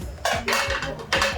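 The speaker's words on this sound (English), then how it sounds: "Put down frying pan." A frying pan is set down on a kitchen surface while cooking cheesy instant ramen pancakes, giving a few light metallic clanks and scrapes in quick succession, close and fairly quiet.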